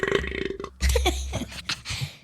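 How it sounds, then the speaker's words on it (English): A deep, close burp rumbles out during a podcast recording, following a few seconds of rougher throat noise and lasting about a second and a half. "I burp a lot, though"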